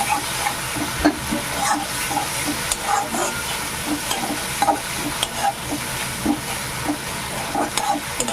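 Ground cumin and ginger paste frying in a pan, loud close sizzling with repeated scraping stirs of a spatula in a steady rhythm, no voices.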